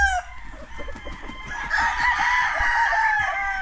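A rooster crows loudly and close by among other chickens clucking, with the long crow rising in the second half over steady flock chatter.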